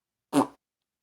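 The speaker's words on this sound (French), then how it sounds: "Un pet court, on pourrait même dire bref, mais bien sonnant." A single short, loud fart, a brief resonant burst lasting about a quarter second, close and isolated against silence.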